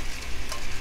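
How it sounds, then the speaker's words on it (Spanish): Chiles roasting in a pan give a brief, close sizzle with a soft crackle, heard alone for under a second. "Allí en mi cacerola voy a poner a asar mis chiles."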